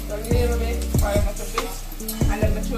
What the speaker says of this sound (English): Fry up the seasoning a little bit first.